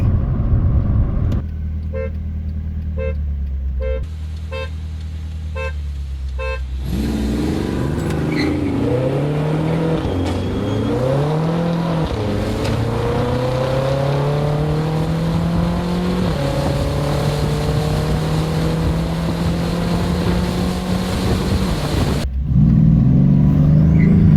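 A BMW M6 and a Mercedes CLS63 AMG accelerate hard, one engine note climbing through several gear changes in long rising sweeps, loud and close, with a brief horn-like toot early on before the engine takes over.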